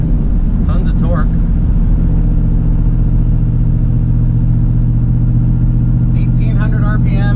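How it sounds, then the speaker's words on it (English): An Infiniti G35 engine cruises at 1800 RPM in fifth gear, a loud, steady low droning hum that holds constant throughout, with someone speaking briefly near the start and end. "1800 RPM right now, fifth gear."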